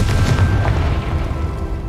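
A single deep boom from the Confringo explosion spell in Hogwarts Legacy, a loud low blast that decays over about a second into a rumbling tail.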